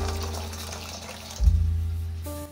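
Tap water runs steadily while 250 grams of small mourola fish are washed clean, swelling briefly into a louder splash partway through.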